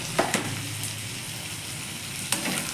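Spices such as turmeric, garam masala and chilli powder being stirred into fenugreek (methi) bhaji frying in a pan, a low steady sizzle with a few soft spoon scrapes near the start and end.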